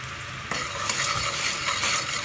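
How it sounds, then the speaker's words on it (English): A boiling sugar-and-lemon mixture for hair removal is stirred in a pot, giving a steady close bubbling hiss with soft scraping throughout and no voices. "so we're just going to keep stirring"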